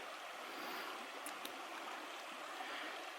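The Koch River flows steadily beside a railway line in autumn, a soft, continuous rushing of water heard alone and fairly faint.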